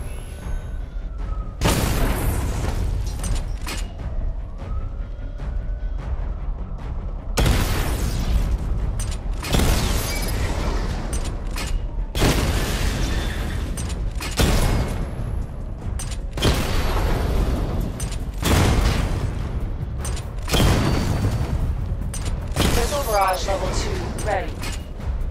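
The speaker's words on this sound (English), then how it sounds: "Charge the missile barrage to level 2 to destroy up to 4 targets at once" Rounds of missile barrage explosions from the Batmobile in the video game Batman: Arkham Knight, loud booming bursts landing every few seconds with mechanical whirs between, under a voice giving instructions.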